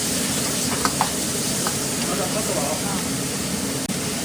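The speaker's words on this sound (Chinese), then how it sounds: "放点酱油，爆炒一下。" Stir-frying with soy sauce in a wok, a dense, loud, continuous sizzle and roar with a few faint clinks of the utensil, with talk blended into the background.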